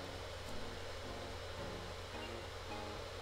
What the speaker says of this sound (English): The fan is whirling up.